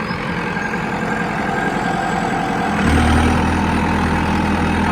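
Arjun 605 turbo tractor engine idling with a steady heavy rumble, then a louder, deeper throb as it revs up partway through, close by, with no one speaking.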